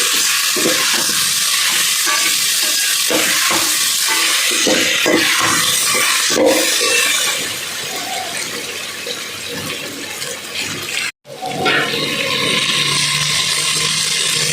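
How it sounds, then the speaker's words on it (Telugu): Ginger garlic paste frying in a pan with chopped pieces for a meal maker biryani, a steady loud sizzle with stirring scrapes throughout, briefly cut off near the end. "రెండు టేబుల్ స్పూన్ల అల్లం వెల్లుల్లి పేస్ట్ వేసి బాగా తిప్పుకుంటున్నాం ముక్కల్లోకి కలిసేలాగా అలాగే పచ్చివాసన పోయేంత వరకు ఫ్రై చేసుకుంటున్నాం"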